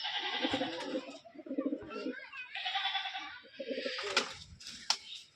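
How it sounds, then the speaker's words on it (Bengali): Soft, repeated cooing of a female pigeon with a few short calls, close by, mixed with light background noise and a couple of sharp clicks. "এটা হচ্ছে মাদি কবুতর"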